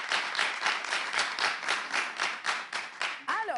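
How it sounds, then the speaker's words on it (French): A small audience at a cultural reading event claps for itself in a steady, rhythmic beat of distinct, evenly spaced claps, fairly close, with a brief voice at the very end. "Applaudissez pour vous-même,"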